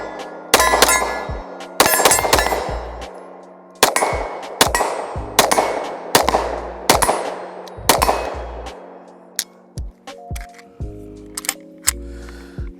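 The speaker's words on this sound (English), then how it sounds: "we're shooting with a 40 cal this time" Shots from a .40 caliber pistol crack sharply and loudly, about a dozen in irregular bursts, each followed by a ringing metallic clang of a struck steel target; no speech.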